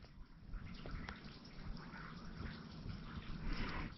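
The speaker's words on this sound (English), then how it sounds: "I think you'll hear water running up in here." Water runs steadily inside an old mine adit at the Porter Mine in Maine, a faint, continuous trickling wash with a low rumble echoing in the tunnel, heard alone with no talking.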